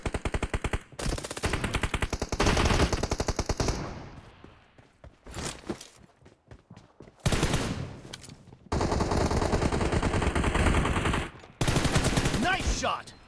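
Pistol gunfire in the PUBG Mobile team deathmatch game: loud, rapid bursts of shots in several clusters, separated by quieter stretches with footsteps and thuds.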